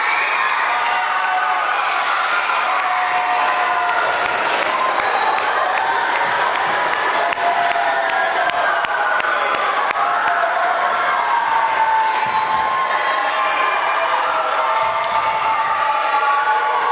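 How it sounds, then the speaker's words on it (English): A large school crowd of children cheers and applauds for their teachers, principal and parents: loud sustained shouting, whoops and clapping from close by, holding at full intensity throughout. "I want to hear how loud you can cheer for all your teachers and principal and parents"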